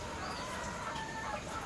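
Chickens and chicks in a farmyard, with steady clucking and soft peeping carried over a continuous outdoor background at moderate, even loudness.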